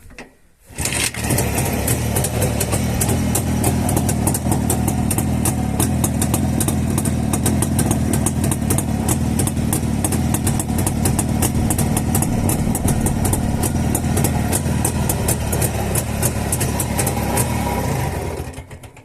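A Jawa 360 motorcycle engine starts and then idles steadily for nearly twenty seconds, a loud, close, evenly pulsing two-stroke rumble that cuts off at the end.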